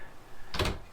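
A wardrobe door in a 2021 Grand Design Solitude RV gives a single brief soft knock or latch sound as it moves, close and fairly quiet over faint room hum.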